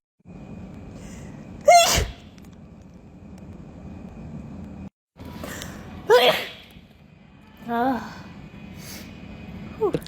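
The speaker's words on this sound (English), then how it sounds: "It's something about fresh toilet paper that activates my sneezes." A person sneezes with toilet paper stuck in a nostril. Three sharp, close sneezes come several seconds apart, each preceded by a quick inhaled gasp, with a quiet steady hum in the background.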